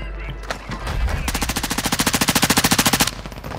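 Rapid automatic gunfire in a video game, a sustained burst of evenly spaced loud shots lasting about two seconds after a few scattered single shots, with no talk.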